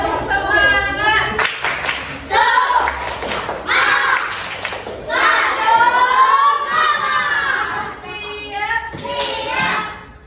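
A class of children performs the 'tepuk semangat' clapping chant, rhythmic group claps mixed with loud chanted and shouted voices, near and lively, in bursts across the whole stretch.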